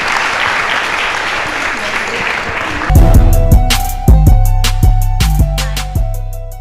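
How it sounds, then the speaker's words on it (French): Youth forum audience applauding Madame Titiane, a burst of dense clapping for about three seconds that gives way to loud, sharp knocks and thumps with some talk. "Des applaudissements pour Madame Titiane,"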